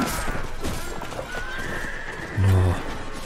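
In the video game Mount and Blade Warband, a horse gallops with steady hoofbeats, then gives a loud, close neigh near the end, over faint in-game background noise.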